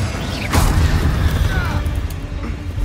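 An Incendio fire spell is cast in the Hogwarts Legacy video game, a loud whooshing magical burst with a booming, crackling edge near the start, then a rumbling fiery tail, with a brief voice present.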